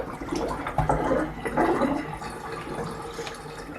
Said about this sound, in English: now I'm going to add the lye water